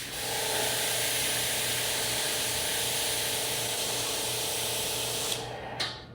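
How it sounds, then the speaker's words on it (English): Steady, loud hiss of a water spray washing a Ford Mustang Mach-E's roof, running continuously at close range, cutting off near the end. "Now I can spray from back to front, getting the whole roof without getting the wall wet."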